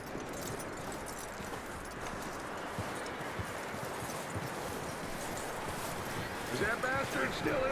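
Horse hooves in Red Dead Redemption II clop steadily at a walk. The sound is faint and continuous, under an ambient bed of game sound, and a voice speaks over it.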